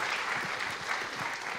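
Audience applause at the close of a technical seminar talk, a brief, even wash of many hands clapping in a lecture room, steady and unbroken with no voices on top.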